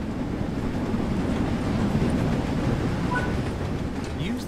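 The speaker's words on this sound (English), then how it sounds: "Let's prepare the train to slow down." A steam train in the Train Sim World 3 video game slows down, with a steady low rumble and rolling wheel noise throughout and faint squeals near the end, without any speech.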